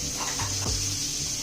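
A steady, close sizzle of frying in a pan while ridge gourd and paneer kofta is being made, with soft stirring scrapes and no voices.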